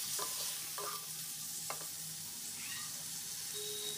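Capsicum, chilli and tomato frying in butter while being stirred, a faint steady sizzle with a few soft scraping strokes; a cat meows in the background.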